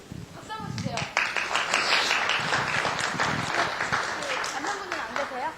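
A church audience claps for a husband being thanked, moderately loud scattered clapping that swells quickly and runs on steadily while voices chatter and call out over it.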